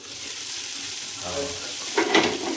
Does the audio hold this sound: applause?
no